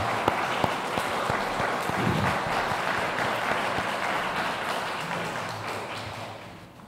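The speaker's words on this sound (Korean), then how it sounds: "격려의 박수 한번 보내도록 하겠습니다" A church congregation applauds the Gloria choir during a Korean Sunday worship service in Rome, steady sustained clapping from many hands in a reverberant room, gradually fading toward the end.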